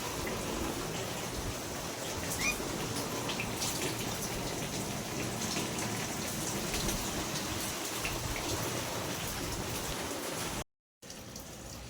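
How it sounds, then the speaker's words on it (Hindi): Heavy rain driven by strong wind hisses steadily and evenly for the whole stretch, a dense wash of falling drops with no voices, briefly cut to silence near the end. "बारिश के साथ साथ हवा इतनी ज़ोर से थी कि हालत ख़राब हो गई"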